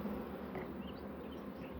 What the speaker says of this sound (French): Mais le volume d'abeilles est important.